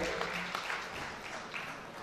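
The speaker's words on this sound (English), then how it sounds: "Give him a big round of applause." Faint, steady applause from a gathered audience at a memorial celebration of life service, heard from a distance for a couple of seconds.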